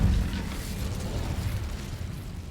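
An Incendio fire spell cast in the Hogwarts Legacy video game erupts in a loud, rumbling burst of flame that roars steadily and then slowly tapers over a couple of seconds, with no talking.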